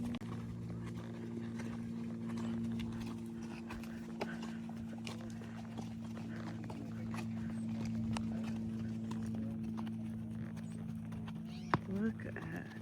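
A horse walks on a trail with steady clip-clopping hooves at a relaxed rhythm, moderately close, over a constant low hum.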